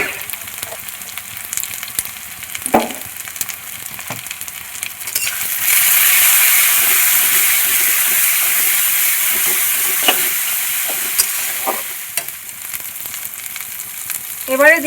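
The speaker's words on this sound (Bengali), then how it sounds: "ভালো করে পেঁয়াজের সঙ্গে কষিয়ে নেব। এবারে দেবো সামান্য গুঁড়ো লঙ্কা।" Chicken masala sizzling in a pan with onions and chili powder, a loud steady frying hiss that swells when ingredients go in, with occasional clinks of a stirring spoon against the pan.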